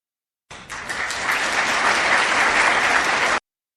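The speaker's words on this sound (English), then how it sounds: "That was clapping for Kerry's most recent speech, which was not Brussels." A crowd claps steadily for about three seconds after a speech by John Kerry, a dense even burst of applause that starts abruptly and cuts off sharply.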